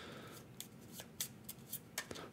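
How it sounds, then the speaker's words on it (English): A deck of twelve game cards for the Sleeping Gods Primeval Peril board game shuffled by hand in a quiet room, giving a series of short, crisp riffling snaps spaced unevenly over a couple of seconds, fairly close and alone. "our 12 curated cards. I'm going to shuffle them."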